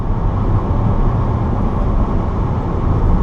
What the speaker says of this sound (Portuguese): É uma mistura dos três: ruído de vento, ruído de rolagem e ruído do motor.